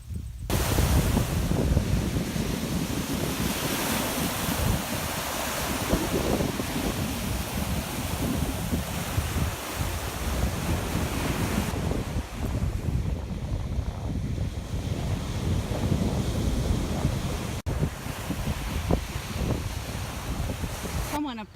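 Rough surf pounding a beach with rip currents, a continuous loud roar of breaking waves mixed with heavy wind buffeting the microphone, with no break throughout.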